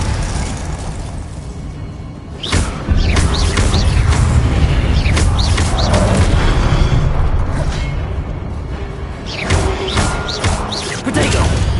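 Confringo blasting spell explosions in the video game Hogwarts Legacy, a string of loud sharp booming bursts over continuous dense rumbling battle noise, with several impacts clustered together and more near the end.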